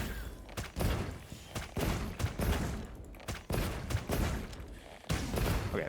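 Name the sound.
bow firing tracer shots in video game Monster Hunter Wilds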